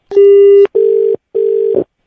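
Three clean electronic telephone beeps at one steady pitch, each separated by a short gap of silence, heard alone right after a call is cut.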